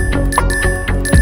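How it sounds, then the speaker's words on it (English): A VanMoof e-bike's electronic dynamic bell plays a series of bright tinkling chime tones in a quick rhythmic pattern, up close over a sustained tonal background. "The dynamic bell is our new way of expressive communication"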